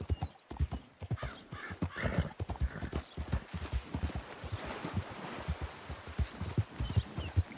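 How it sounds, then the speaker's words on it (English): Horse hooves clip-clop in a steady walking rhythm in Red Dead Redemption 2, close and clear, with a brief whinny and faint ambient noise behind them. "This is a damn good horse"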